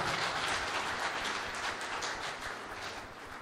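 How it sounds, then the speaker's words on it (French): An audience claps together in a hall at a political general assembly of a youth movement, a steady wash of applause that slowly fades toward the end. "applaudissez vous-même"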